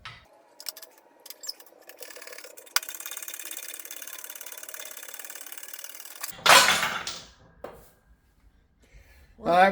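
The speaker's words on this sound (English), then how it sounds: "We'll put that in the press and press it off." Shop press forcing the gear off a stock air-cooled VW crankshaft: a steady ratcheting, grinding mechanical strain runs for several seconds, ending in a loud burst as the gear releases, followed by a brief quiet and another sharp noise.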